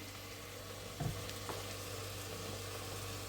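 Chopped vegetables sautéing in a pot for a winter soup, a steady soft sizzle throughout with a brief clink of stirring near the start.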